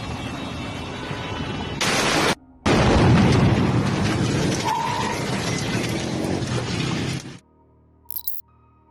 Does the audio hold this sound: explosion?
yes